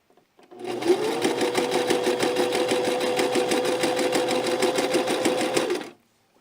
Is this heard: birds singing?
no